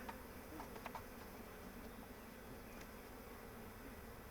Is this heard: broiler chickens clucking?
no